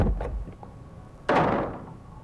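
A door opens in the Murder House video game, a single loud thud-like burst partway through that fades over the next second, with faint muffled game ambience before it.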